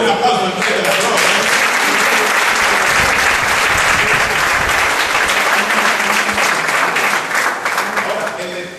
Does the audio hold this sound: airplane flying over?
no